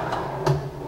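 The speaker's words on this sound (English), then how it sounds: "The base has these wonderful full extension drawers." A full-extension wooden drawer on an Amish-made hutch with English dovetail joints slides, giving two soft knocking thuds, the second one louder, close by in a quiet room.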